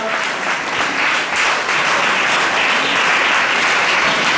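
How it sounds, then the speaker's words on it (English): Steady, loud applause from a large crowd at a marriage ceremony, many hands clapping at once in a thick, sustained wash of sound. "Please clap when you see him. Clap, clap, clap."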